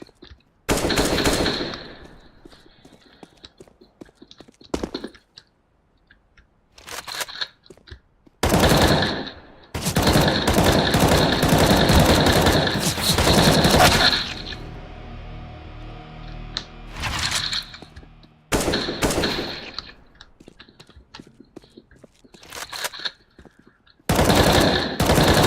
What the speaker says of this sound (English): This is such an awful pistol.